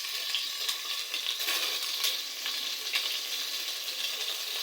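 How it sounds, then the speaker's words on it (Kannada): Onion, mint and green chilli fry in oil for chicken sambar, making a close, steady sizzle with bright crackling pops throughout. "ಇಷ್ಟು ಹಾಕ್ಕೊಂಡು ಎಣ್ಣೆಯಲ್ಲಿ ಹುರ್ಕೊಳ್ಬೇಕು."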